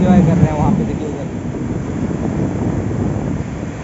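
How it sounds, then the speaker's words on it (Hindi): Strong sea wind at Digha beach blasts straight into the microphone, making a loud, constant low rumble, and a voice is heard briefly at the start. "समुद्र के सामने से इतना तेज़ हवा आता है कि कोई सा भी माइक हो आपका, बोया माइक हो, जो भी माइक हो, भाई इसके सामने सब कुछ फेल है"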